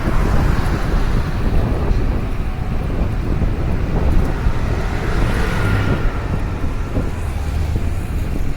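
Steady roaring wind buffeting the microphone while riding a 48V 1500W e-bike at speed, a continuous low rumble with no talking.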